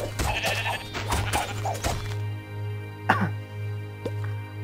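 Sheep bleat in a blocky survival video game, several close, loud bleats in quick succession at first, then a few scattered bleats over a steady low hum.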